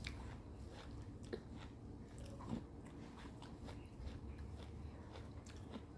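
Crunchy Fuji apple being bitten and chewed close up, with repeated crisp crunches and wet mastication in a steady rhythm, heard alone without talk.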